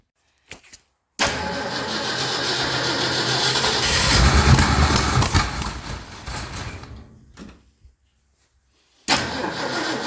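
A 1971 Ford F250 Camper Special with a 390 FE V8, choked and cranked, catches and roars up loudly, runs raggedly for several seconds, then dies off; a brief sputter follows before another start near the end.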